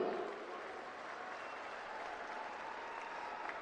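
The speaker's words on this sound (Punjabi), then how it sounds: "ਤਾੜੀਆਂ ਮਾਰੋ ਨਾ ਫਿਰ ਹੁਣ" Steady, distant applause from a crowd at a political rally speech by Bhagwant Mann, fairly faint and even throughout with no break.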